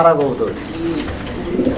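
Low coos from fancy flying pigeons at a pigeon sale rumble close by, mingled with indistinct voices in the background.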